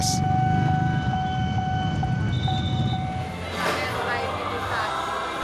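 A train rumbles past a level crossing in Bogor, a steady loud roar with a sustained horn-like tone and a bell or signal dinging, heard close and continuous.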